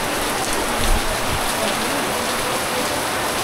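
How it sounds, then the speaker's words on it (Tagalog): Heavy rain pours steadily onto a cemetery, a dense, loud, unbroken hiss of drops striking surfaces close by, with no voices over it. "hindi man umuulan ng ganito kalakas"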